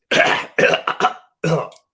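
Several harsh coughs close up, a quick burst of three or four followed by one more after a short pause, no talking.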